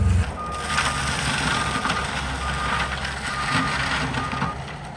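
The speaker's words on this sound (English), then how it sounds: "We'll drive up here right now and look at this New Holland machine work." A New Holland brush-clearing machine works through scrub and cottonwood, a dense continuous roar of engine and mulching with crackling, splintering wood and a steady high whine, heard at moderate distance.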